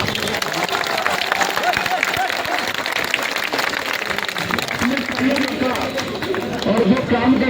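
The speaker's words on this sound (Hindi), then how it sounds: "अब सबका एक बार खुद के लिए जोर से तालियां बजाओ." A crowd at a rally speech for auto-rickshaw and ride-hailing drivers claps loudly and steadily, a thick continuous patter of hands mixed with shouts and crowd chatter throughout.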